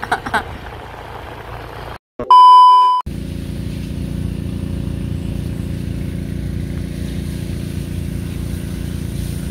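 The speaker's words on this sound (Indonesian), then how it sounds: "Traktor." A tractor engine running at a rice field, a steady low rumbling chug that starts after a brief handling noise and a loud tonal beep, then continues evenly and close.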